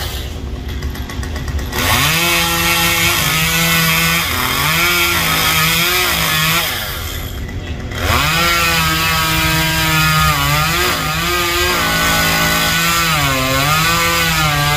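A chainsaw cuts through a poplar tree branch, its engine droning loudly and steadily with pitch rising and falling as it bogs and revs. It drops off briefly twice before surging back.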